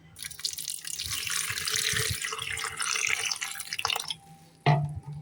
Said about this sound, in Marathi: थोडस पाणी ऍड करणार आहोत